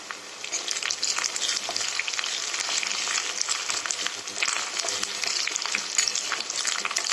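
Onions frying with salt for dal, a dense, continuous crackling sizzle that stays loud and even throughout with no voices.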